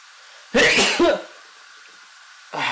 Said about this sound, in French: avant d'éternuer comme ceci